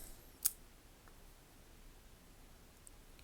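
Scissors on a SOG PowerPint multi-tool give a single sharp snip near the start, close and crisp, followed by faint small clicks in a quiet room.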